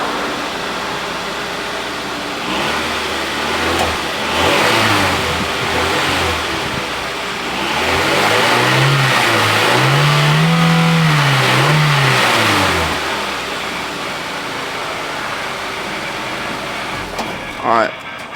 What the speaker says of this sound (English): Start up, rev to 3000,